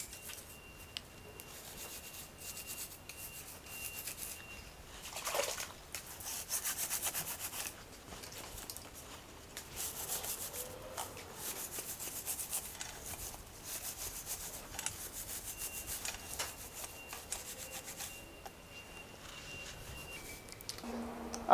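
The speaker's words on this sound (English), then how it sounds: "Then I use a brush like the TB1709, great choice, to really get in there and start scrubbing" A stiff brush scrubs a bicycle drivetrain during cleaning, a faint, close, repetitive rubbing and scratching that rises and falls in strokes over a long stretch, with a few louder bursts and no talk.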